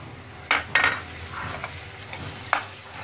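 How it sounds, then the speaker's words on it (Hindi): Unsalted butter is dropped into melted, browned sugar in a pan and stirred: soft sizzling under several clinks and scrapes of a utensil against the metal, close and moderate in level, with no talking. "ये मैंने अनसॉल्टेड बटर लिया है और इसका छोटा सा एक टुकड़ा इसमें डाल देंगे।"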